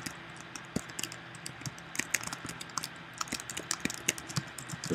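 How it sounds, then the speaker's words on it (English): Rapid keyboard typing on a computer, with irregular clicking keystrokes close up, fairly quiet and steady throughout with no talk. "You can type"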